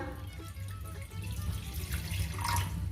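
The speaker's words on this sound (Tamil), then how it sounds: "பூசணிக்காய் வேக வைக்கிறதுக்கு கொஞ்சம் தண்ணி விட்டுக்கலாம்." Water runs steadily from a tap and splashes into a cooking pot for boiling white pumpkin, a continuous close gurgling stream with no talking.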